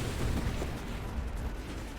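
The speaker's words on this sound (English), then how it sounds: "Everything go boom. That's what happens when you got missiles everywhere." Missiles exploding in the space shooter game Nova Drift, a dense, continuous rumble of overlapping booms at steady loudness for the whole short stretch.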